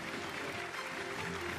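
An audience applauds as the cast of a TV drama is welcomed onto a studio stage, a faint, steady wash of clapping heard at a distance.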